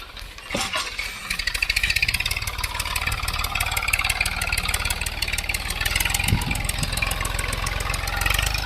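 A tractor engine idles steadily on a farm, a continuous close, loud low throb with a rapid mechanical pulse that holds evenly throughout without speech.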